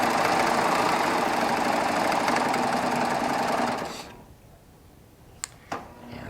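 Baby Lock Triumph serger stitching decorative thread, a steady fast mechanical whir and rattle for about four seconds that stops, followed by quiet with a couple of small clicks.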